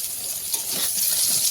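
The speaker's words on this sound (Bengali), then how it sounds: "আমি একটু আলু দেবো, তাই আলু ভেজে নিচ্ছি।" Potatoes frying in hot oil in a kadai, a steady close sizzle with fine crackling spatter that runs unbroken throughout.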